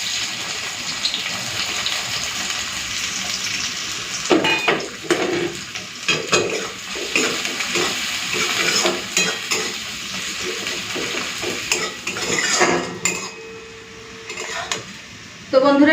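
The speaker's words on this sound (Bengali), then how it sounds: "পেঁয়াজটা লাল করে ভাজা হয়ে গেছে" Onions fry in oil sweetened with a little sugar while a spoon scrapes and stirs them around the pan, a continuous sizzle broken by repeated metallic scraping and knocks, with one brief near-silent pause near the end.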